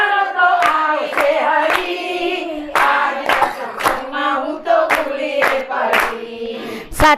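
Sharp rhythmic hand claps keep time with a devotional Gujarati bhajan sung by a women's group at a satsang, the claps loud and regular over the sustained melodic singing.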